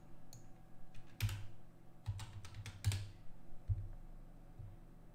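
Computer keyboard typing while commands are pasted into a terminal: a few sparse, sharp key clicks and thumps spaced irregularly, close and quiet, with no voices.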